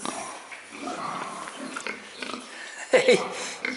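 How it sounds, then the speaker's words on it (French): Hungry young pigs on a farm in France grunt and snuffle at close range, a louder burst of grunting near the end, with people talking in French over them. "Coucou les cochons."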